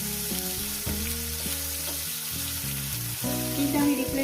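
Tomatoes fry in a pan for a dahi bhetki fish dish, a steady hiss and sizzle running throughout under a faint tonal background, with no voices.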